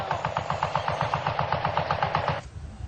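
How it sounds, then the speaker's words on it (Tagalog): Rapid, evenly spaced bursts of heavy cannon fire repeat in a quick rhythm for over two seconds, then stop abruptly. "dinig na dinig nila mga putok ng kanyon"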